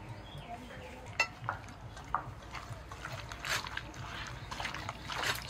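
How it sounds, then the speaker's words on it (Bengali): Mutton is worked together with ground pepper, ginger-garlic-chilli paste, sour yogurt and mustard oil, giving soft, wet squelching and occasional light clinks of a bowl, quiet and close. "সব মশলার সাথে মটন ভালো করে মাখিয়ে নেব"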